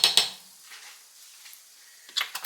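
A whisk clinks and scrapes against a pan as one tablespoon of flour is stirred into hot bacon grease, with a cluster of sharp metallic taps at the start, a quiet soft swish in between, and more clattering at the end.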